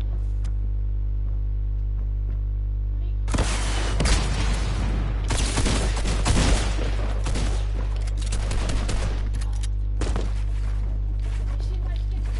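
Tommy gun fire in a video game, loud sustained bursts of automatic shots over a steady low hum, beginning a few seconds in and breaking off near the end.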